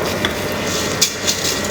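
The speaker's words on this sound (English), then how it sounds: "We're not frying the rice, we're just slowly sauteing it" Rice sautéing gently in olive oil in a pan for risotto makes a steady soft sizzle, close and continuous, with a few faint clicks of stirring.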